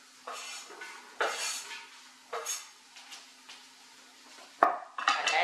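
Onion tipped into a soup pot, with a series of clanks and scrapes of utensils against the pot, a soft sizzle between them, and a sharp metallic knock near the end.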